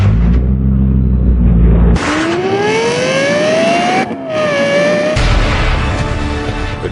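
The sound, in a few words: Lexus LFA engine revving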